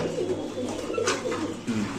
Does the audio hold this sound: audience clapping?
no